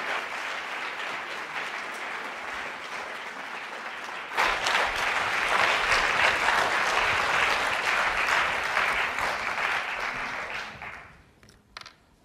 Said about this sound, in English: Let's give her a really warm round of applause